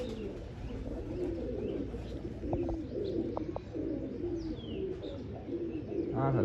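Domestic pigeons coo in soft, repeated low calls, close by, with a few brief chirps from other birds and light background noise.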